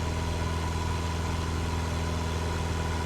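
A Cessna 172 piston engine throttled back to reduced RPM in Microsoft Flight Simulator 2024, a steady droning hum with a low buzzing pulse, constant and even throughout with no talking.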